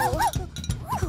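An animated cartoon dog whimpers and yips in quick rising and falling whines mixed with short barks, close and clear.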